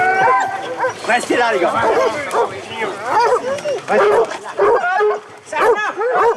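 A pack of hunting dogs bays and yelps in a dense, overlapping chorus at a hunt, loud and close, while a man calls out over them.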